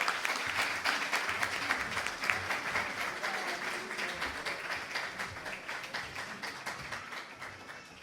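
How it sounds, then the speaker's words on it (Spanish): A congregation at a church general meeting applauds to welcome a pastor, brisk rhythmic clapping from many hands that stays strong, then slowly softens over eight seconds. "Lo recibimos con un aplauso."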